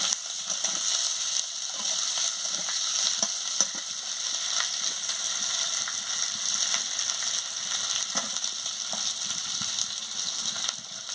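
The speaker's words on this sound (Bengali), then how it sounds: "আলু দিয়ে ভালো করে মশলার সঙ্গে কষিয়ে নিচ্ছি।" Potatoes sautéing with spices in a pan, a continuous bright sizzle with occasional light scraping and stirring clicks, close and steady throughout.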